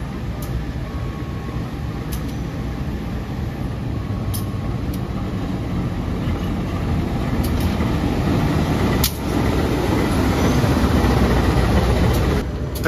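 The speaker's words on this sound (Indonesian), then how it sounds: "dari belakang ada kereta api Singasari ya" The Singasari passenger train rumbles past on an Indonesian railway, a loud steady roar of wheels and engine throughout with faint clicks on top.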